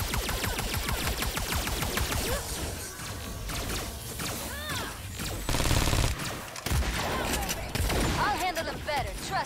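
Enemy gunfire in the video game Agents of Mayhem: rapid bursts of automatic fire and shots, loud and continuous, mixed with crashes and game effects while a player talks over the action.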